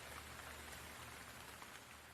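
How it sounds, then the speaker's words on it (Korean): Heavy downpour used as a sound effect in a narrated story, a dense, steady hiss of rain on a surface, faint and even throughout with no talk. "빗줄기는 점점 굵어져 장대비가 되었죠."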